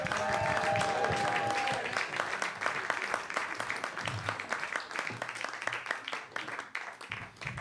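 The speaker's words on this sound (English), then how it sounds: "please give a huge round of applause to Wayne Shakespeare" A comedy club audience applauds and cheers as comedian Wayne Shakespeare is introduced: full, steady clapping at first, with a brief whistle, then thinning into scattered claps.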